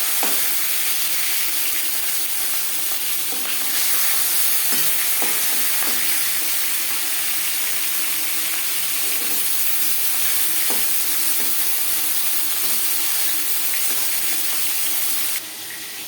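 Rohu fish head and pieces frying in hot oil in a pan, a loud continuous close sizzle with occasional pops and spatters, no voices.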